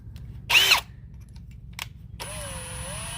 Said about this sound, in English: you have to drill 4 holes, 2 on this side and 2 on the other side into the frame